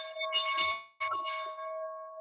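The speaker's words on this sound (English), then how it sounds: "There's our opening bell." A trading pit's opening bell rings out in two clear electronic chimes, the second following straight after the first, ringing steadily and fairly near with no talk over it.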